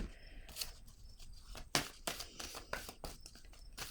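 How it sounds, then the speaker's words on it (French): Cards being drawn and handled from an oracle deck, a run of short crisp papery slides and snaps close by, several quick rustling bursts with one sharper flick near the middle, no voices. "Attendez une minute, je vais piger une autre carte."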